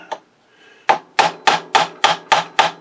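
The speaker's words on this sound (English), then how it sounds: "plastic hammer, and just give it the old tappy tap tap" A plastic hammer taps lightly and evenly, seven quick strikes in a steady rhythm, close and clear with no talk, after a faint knock and a quiet pause.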